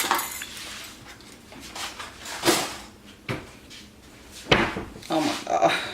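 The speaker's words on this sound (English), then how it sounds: "Let me get my plasticware" Plastic cutlery is handled and rummaged in a kitchen, giving light irregular clatters and rustles with a few sharper knocks, close up, with brief talk in the background.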